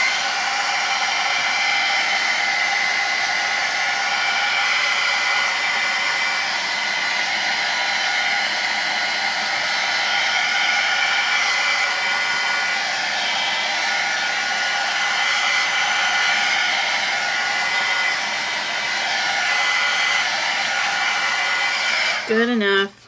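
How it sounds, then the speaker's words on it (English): Heat gun drying wet ultramarine blue paint on a mixed media journal page, a loud, steady blowing whir running without a break for over twenty seconds, cutting off abruptly at the end. "hit that with a heat gun real quick"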